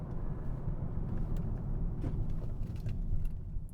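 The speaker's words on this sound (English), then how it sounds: "I'm going to hit the brakes here just so you guys have an idea of the stopping in this car." Low road rumble and engine drone from inside a Hyundai Sonata sedan as it slows under braking, steady and close with a few faint mechanical clicks.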